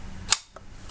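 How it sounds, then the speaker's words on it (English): Very sharp scissors snip through a plastic cup once, giving a single short crisp click in a quiet room. "So it has these scissors, which are insanely sharp."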